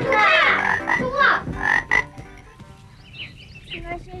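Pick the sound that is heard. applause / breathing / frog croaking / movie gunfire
frog croaking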